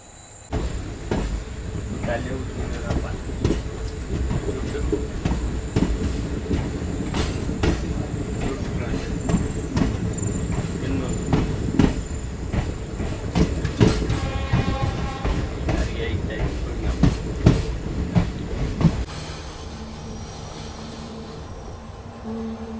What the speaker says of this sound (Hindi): ये हमारी ट्रेन फ़िलहाल पहुंच चुकी है चित्रदुर्गा रेलवे स्टेशन